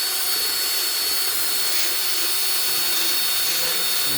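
A power tool grinds paint off a motorcycle's metal rear fender strut before welding, making a loud, continuous, high whine that holds steady with no pauses or talk.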